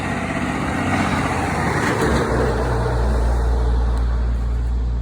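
Car traffic rolling along a country road, a vehicle rumbling past close by with a deep low-end swell around the middle, then steady broad road noise continuing throughout, no voices.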